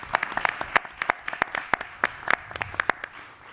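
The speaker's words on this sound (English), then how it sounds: "would you mind giving them a round of applause regardless?" An audience at an evening congregation forum gives a short round of applause, scattered sharp claps repeating at a steady pace, moderately close and without talk over it.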